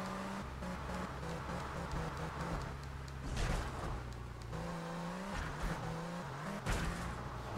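A car in Grand Theft Auto III, powerful but short on traction, revs hard with steady engine drone and bursts of tire skidding, loud and continuous throughout with shifting pitch as it accelerates.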